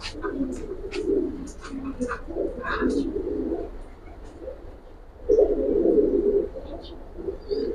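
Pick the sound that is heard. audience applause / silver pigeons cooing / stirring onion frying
silver pigeons cooing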